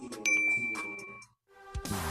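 A bright notification bell sound effect rings out, a couple of clear metallic dings with a short pause between them, crisp and close with no talk.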